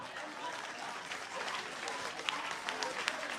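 A church congregation at a deliverance service claps and cheers for Jesus, a steady crowd applause with scattered sharper claps and voices mixed in.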